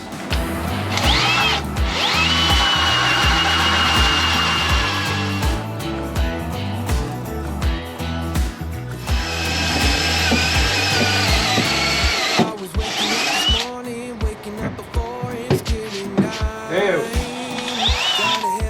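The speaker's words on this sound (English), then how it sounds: "I'm going to drill the hole that the hose will go through over there." A power drill bores into a boat deck, a loud, near whine that runs long, pauses briefly, then resumes with rougher grinding bursts.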